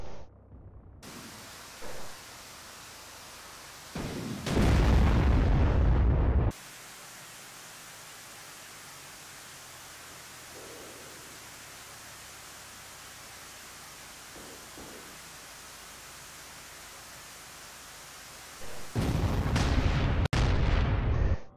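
Missiles explode on targets in the DCS A-10C flight simulator as loud bursts of broadband noise, one roaring rumble early on and another cluster of sharp blasts near the end, over a steady cockpit hiss.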